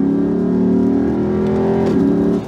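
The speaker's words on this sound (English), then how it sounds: "if you want to go down here, it doesn't really rev match so well and so on." A 2008 Lexus IS F engine held at a loud steady drone that shifts pitch as if on a downshift, heard close with no talking.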